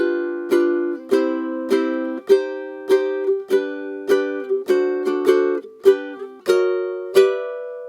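Guitar chords are strummed at a medium tempo for a song intro, with about a dozen crisp, evenly spaced strums that each ring briefly before the next, played clearly without any talking.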